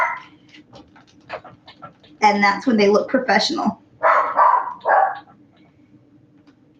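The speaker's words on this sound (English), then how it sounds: "I am tired of the barking." Dogs bark in a few bursts in the middle of the clip, mixed in with a person talking and a steady low hum underneath.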